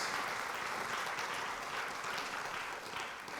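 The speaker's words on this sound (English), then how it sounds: "Let's give John a warm round of applause." An audience claps steadily after a talk on modern slavery at a conference, dense applause heard from within the room without a break.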